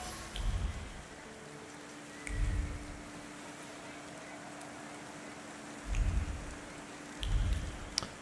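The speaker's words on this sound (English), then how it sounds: "Now it starts to rain." Steady hiss of rain falling in the video game The Thaumaturge, broken by a few low rumbling swells that rise and fade at intervals.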